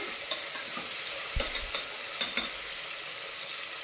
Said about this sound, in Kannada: ಇದನ್ನು ಸ್ವಲ್ಪ ಕೈ ಆಡಿಸುವ. ನೀರುಳ್ಳಿ ಟೊಮೆಟೊ ಫ್ರೈ ಆಗಬೇಕು.